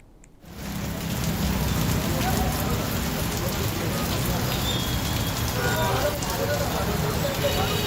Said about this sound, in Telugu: ఉరుములు, మెరుపులతో కూడిన వర్షం ప్రజలను భయాందోళనకు గురిచేసింది